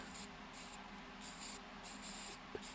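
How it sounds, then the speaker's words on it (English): An aerosol can spraying in several short hissing spurts separated by brief pauses, fairly quiet and close. "you're just going to spray this in spurts"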